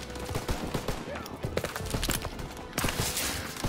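A player opens fire in Call of Duty WWII on the D-Day beach, with rapid, repeated shots in a dense fusillade and irregular bursts of varying loudness, close and layered over distant battle noise.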